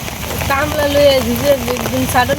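Heavy rain pours as a constant broadband hiss beneath a person talking close by throughout.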